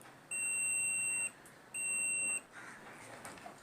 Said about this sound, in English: If there is a continuity, the buzzer will ring.